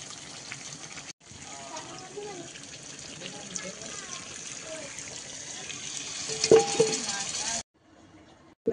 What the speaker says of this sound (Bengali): এবার জলটা দিয়ে দেবো।